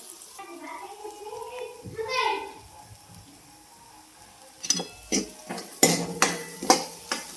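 Garlic tempering being stirred in a pan with a spoon, soft sizzle at first, then a run of loud scraping and clinking strokes against the metal in the final seconds.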